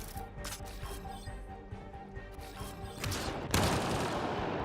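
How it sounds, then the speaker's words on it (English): Bursts of gunfire in the video game Mass Effect: Andromeda, scattered shots with mechanical clatter and a louder blast near the end. "BB, stop shooting."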